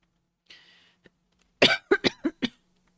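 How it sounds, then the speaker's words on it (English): A breathy throat sound, then a burst of four or five sharp coughs in quick succession, close and fairly loud against a quiet background. "Excuse the coughing."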